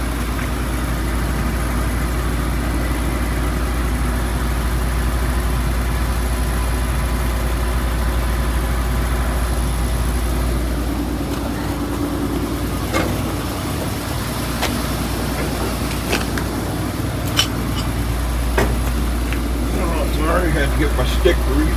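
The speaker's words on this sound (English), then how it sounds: "We rev the engine a little bit, see if that changes." A 1952 Dodge B4B truck engine runs steadily and rises in pitch as it is revved a little, with faint clicks and handling noises near the end.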